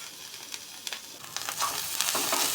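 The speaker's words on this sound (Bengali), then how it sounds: "মগজদানাটা দিয়ে বেশ ভালো করে একটু ভেজে নেবো আমি, একটু তেল দিয়ে" Melon seeds frying in oil alongside garlic and nut paste, a steady close sizzle with scattered crackles and light stirring scrapes that grow denser and louder toward the end, no voices.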